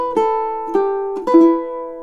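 Ukulele picked note by note, a slow two-measure melody with four distinct plucked attacks ringing clearly and sustaining, the last note left to decay alone.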